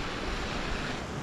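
Thin trickle of water spilling down a small waterfall on a bamboo trail trek in Meghalaya, heard as a steady broadband wash with a low rumble of wind or flow, continuous and close, no voices.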